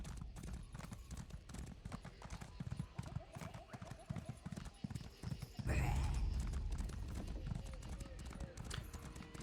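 Horse hooves clop in a quick running rhythm while riding in the fantasy game Elder Scrolls Online, mixed with game effects and a louder whoosh midway, with someone talking over it.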